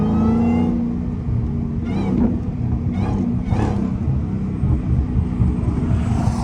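A Dodge SRT Hellcat's engine roars loudly and continuously at high speed from inside the car, with a deep rumble and brief surges in pitch.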